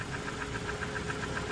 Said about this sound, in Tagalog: O, nagkatukan yung engine niya dahil dun sa langis na kinabit niya.